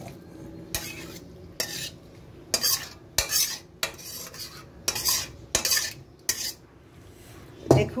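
A pan of Bengali fig and banana-flower curry with prawns scraped and stirred with a metal utensil after the gas stove is turned off, several distinct clanking strokes in a loose rhythm over a faint background hum.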